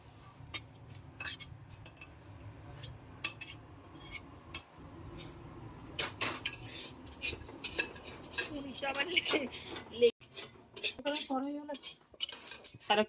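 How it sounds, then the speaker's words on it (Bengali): A metal spatula scrapes and clinks against a wok, lifting out fried paneer pieces in a run of irregular, close metallic strokes, with a faint voice briefly underneath. "এই যে পনিরটা ভাজা হয়ে গেছে এখানে এই যে তুলে নিচ্ছে"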